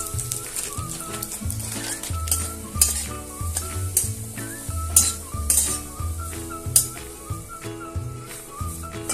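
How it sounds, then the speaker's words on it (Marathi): Stone flower spice roasts in a tablespoon of oil in a pan, with steady sizzling, stirring scrapes and a few sharp clinks of the utensil against the pan over soft background music. "2 फूल परतून घेऊया त्यामध्ये."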